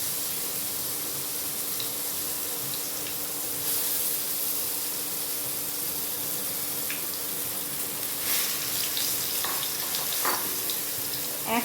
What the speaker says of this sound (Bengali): এবার এটাকে আমি একটু ভালো করে ভেজে নেব